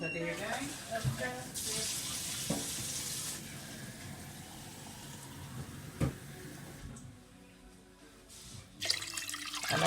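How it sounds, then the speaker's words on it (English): Water being added to a cooking pot of Guyanese pepper pot simmering with orange peel, cinnamon stick and clove, a running, splashing pour with clinks and knocks, fairly close, with a short bright burst near the end. "I'm gonna go ahead and I'm gonna add some more water there"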